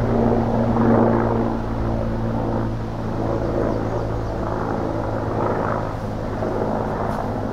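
A military helicopter passes overhead in woodland, a low droning rotor rumble that swells early then holds steady at a moderate distance, with no voices.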